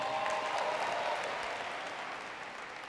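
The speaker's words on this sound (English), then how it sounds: "Let's give 5 Links a round of applause for that." A conference audience at a network marketing event breaks into a sustained round of applause, a dense wash of clapping that stays loud and steady before easing slightly toward the end.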